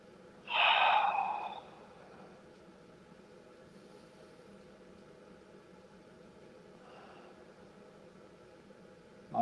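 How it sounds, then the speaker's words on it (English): A single deep breath during a yoga neck and shoulder stretch, a loud airy inhale and exhale near the start, then quiet room tone for the rest. "Breathe deep."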